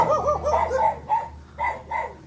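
A dog in a spacious backyard barks in a few short, close bursts, with brief pauses between them.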